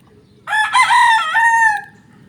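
A rooster crows once, loud and close, a drawn-out harmonic call lasting over a second before trailing off, with quiet background noise.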